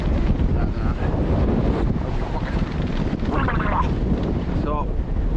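Strong wind buffets the microphone out in the hills. A loud, continuous low roar fills the whole stretch, and a voice is faintly heard under it.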